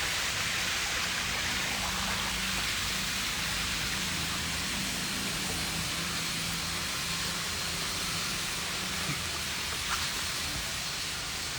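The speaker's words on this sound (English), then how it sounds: "I think the rain's gonna get hard." Steady rain falls beside a waterfall at an outdoor pond habitat, a dense, even hiss of drops that holds constant and fairly loud throughout with no voices.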